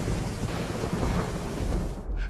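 A thunderstorm with heavy rain: broad, steady rumbling thunder rolls under a dense hiss of rainfall, loud and continuous, easing briefly near the end.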